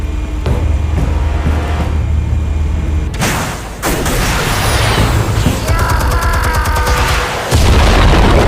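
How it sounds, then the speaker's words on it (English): Armed explosives detonating in Batman: The Telltale Series video game, loud booming blasts and crashing debris amid rumbling mechanical noise and metallic ringing, dense and close throughout. "Explosives armed. Fire when ready."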